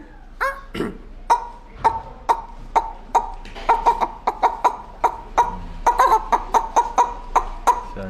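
A person imitates a hen with a long run of sharp, rhythmic clucking calls, close and fairly loud, repeated steadily with brief pauses.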